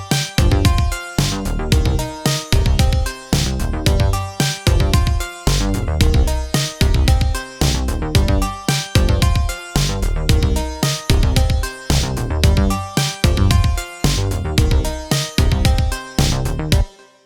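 Synth notes from Logic Pro X's Note Repeater, each hit repeated a couple of times with octave transposition, form a punchy rhythmic hook that loops steadily and loudly with no talking.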